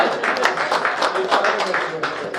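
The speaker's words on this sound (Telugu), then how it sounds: "చప్పట్లు" Applause at a Lions Club charter night and installation ceremony in Warangal, a steady wash of clapping from a crowd with speech also present.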